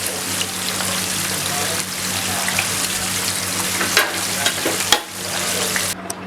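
Chicken tikka broast deep-frying in oil, a steady close crackling sizzle that runs unbroken with a low steady hum beneath and a few louder pops and spatters near the end.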